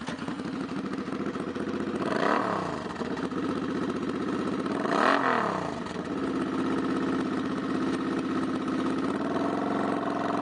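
A used 2007 Suzuki Boulevard C50 800cc middleweight cruiser motorcycle idles steadily nearby, with two brief revs rising and falling before it settles back to an even, rumbling idle.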